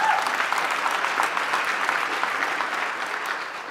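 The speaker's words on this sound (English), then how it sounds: "yes, that's a round of applause" Steady applause from a dinner audience, a dense wash of clapping hands holding at an even level for a few seconds with no voices over it.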